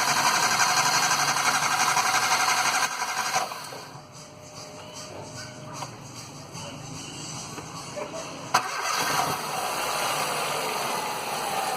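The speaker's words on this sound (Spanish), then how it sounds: "Vamos a echar a andar el motor, el vehículo" A 2004 Ford Ikon car engine runs at a steady idle, giving a close, even mechanical hum and rattle with a few shifts in tone and one sharp click partway through.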